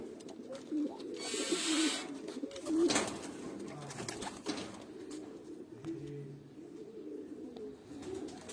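Crossbred pigeons coo in low, throaty, rolling calls close by, repeating over a soft background rustle with occasional light flutters.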